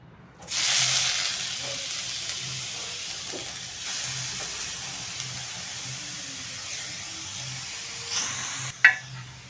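Grated carrots hit hot ghee in an iron wok, setting off a loud, steady sizzle and hiss that holds for several seconds, with a sharp metallic clatter just before the end.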